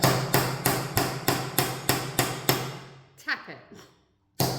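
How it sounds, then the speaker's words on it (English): A hammer taps a metal rivet on a model monster with a rapid, even series of about nine sharp close strikes, then a pause, a few softer knocks and one final hit. "I'm then going to get my hammer"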